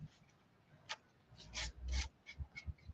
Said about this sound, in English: you start to sand with those blocks